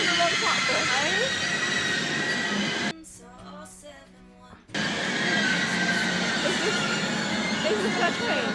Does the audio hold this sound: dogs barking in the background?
no